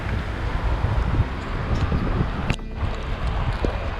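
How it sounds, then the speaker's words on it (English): Strong wind from Storm Eunice buffets an outdoor hike around Derwent Dam in rain and snow, a steady loud roar with rumbling gusts hitting the microphone and a brief sharp break near the middle. "some of the wind gusts is Jesus, takes everything with it"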